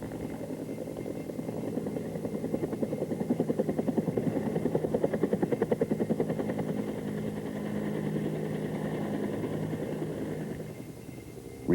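A Bell AH-1 Cobra helicopter climbs after passing through effective translational lift, its rotor thumping in a steady, rapid beat over a dense engine drone that stays loud and close throughout.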